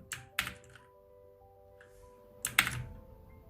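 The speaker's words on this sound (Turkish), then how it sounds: "Tekrar delete'ye basıyorum." Delete key pressed on a Motospeed CK-104 mechanical keyboard, two separate close clacky keystrokes about two seconds apart, each with a quick double click, over a quiet room hum.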